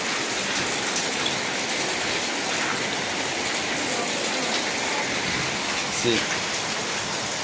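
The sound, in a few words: heavy rain water pouring down from above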